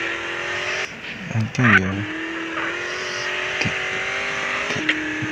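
Modified Ford Everest engine in GTA San Andreas revving and pulling away under steady game music, with a brief rise and a tire scrape near the start; a man exclaims in Tamil over it.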